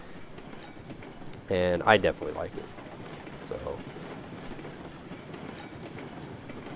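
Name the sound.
Shay train rolling along in video game Railroads Online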